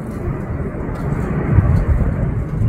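An airplane passes overhead at sunrise or sunset in California, a steady, broad engine rumble that swells gradually and holds for a few seconds without breaking off.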